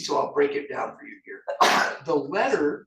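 A sharp sneeze bursts out in the middle of a person's speech during a city budget briefing, loud and close, with talking before and after it.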